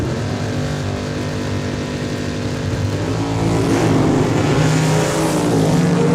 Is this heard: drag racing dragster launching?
yes